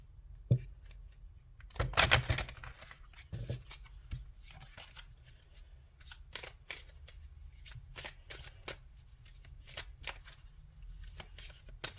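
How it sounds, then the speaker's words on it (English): A deck of tarot cards being shuffled by hand up close, with repeated riffling bursts and soft card slaps through the stretch, no talking. "Since I have 2 decks, I will just grab a few from this one and then shuffle the other one"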